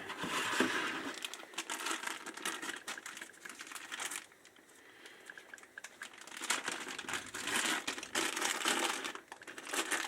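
Small plastic baggie from a SYMA X100 drone box being opened, soft close crinkling and rustling in irregular bursts with a brief quieter pause in the middle.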